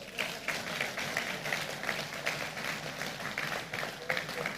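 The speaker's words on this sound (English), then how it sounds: "I thought you would clap to that." Applause from an audience at an entrepreneurship festival award and gala night, a dense, steady clatter of many hands clapping, moderately loud and sustained throughout.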